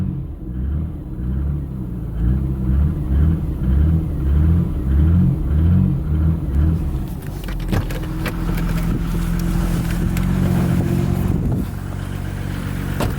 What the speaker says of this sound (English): Andrew complained that the engine was a little top end ticky